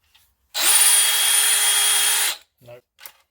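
Non-genuine SDS drill running in hammer mode, a single loud burst of close buzzing whine lasting under two seconds, followed by brief handling clicks.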